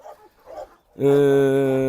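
A female Kangal dog lets out a loud, sustained, tonal bark or growl at close range, following a brief stretch of quiet human voice.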